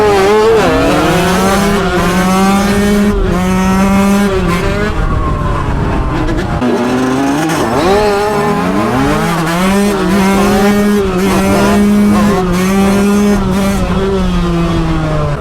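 Motocross bikes launching from a start on the streets of Naples, engines revving hard in overlapping rising and falling pitches, loud and close throughout with no pauses.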